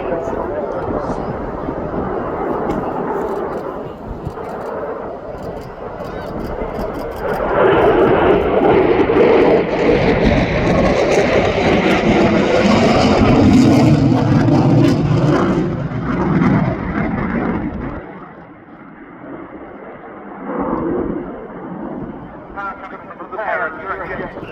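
A jet with EJ200 afterburning turbofans performs at the Cosford air show in 2025, its roar swelling to a loud, sustained rush as it passes and then fading, with a commentator talking over it.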